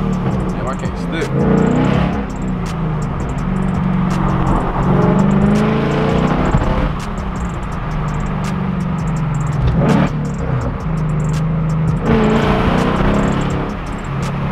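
A Ford Mustang GT with long tube headers revs repeatedly, its deep, raspy exhaust surging in several loud blips near the microphone while voices talk over the engine.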